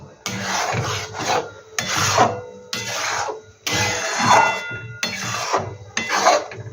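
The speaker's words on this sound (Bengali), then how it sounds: "এবার এটা ভালো করে আস্তে আস্তে নাড়তে হবে।" A ripe mango kalakand mixture is stirred in a pan over a low flame, giving repeated rasping, scraping strokes in a steady rhythm of about six bursts with brief pauses between, close and fairly loud.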